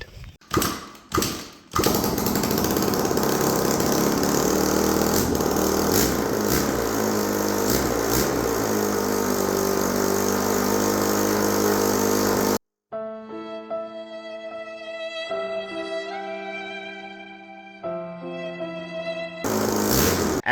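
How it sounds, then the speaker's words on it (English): A Honda CRF150R dirt bike engine runs, smoking heavily: a steady, loud buzzing idle for about twelve seconds, then it gives way to tonal background music. "we started up the CRF 150 behind me. It smoked like a motherfucker"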